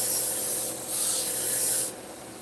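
Knife blade rubbed along an abrasive with an angle guide to cut a flat bevel, a close, steady hissing scrape in two strokes.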